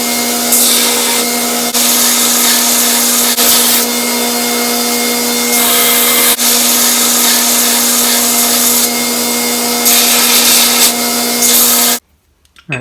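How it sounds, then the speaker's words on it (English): A steel block made from saw blade Damascus is ground to square its faces and strip off scale, producing a loud, continuous abrasive grinding whine in repeated passes that cuts off abruptly near the end. "just some lighter grinding, like squaring the faces off, and just getting rid of all this scale"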